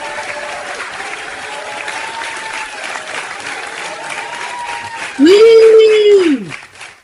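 Studio audience applause at a podcast opening, a sustained clapping wash with voices talking over it, then a loud tonal shout near the end.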